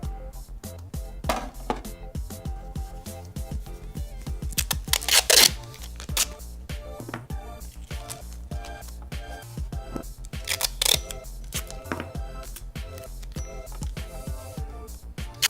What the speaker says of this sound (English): this will now just be playing the video with the Foley mix